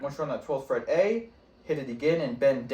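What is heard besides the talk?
No distinct noise like a dog, phone or traffic.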